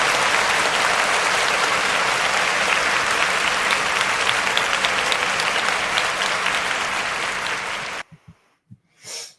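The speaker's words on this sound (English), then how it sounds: "So let's give him a round of applause." An audience at a business talk gives a sustained round of applause, dense and loud clapping for about eight seconds before it cuts off to near silence with a few faint breaths.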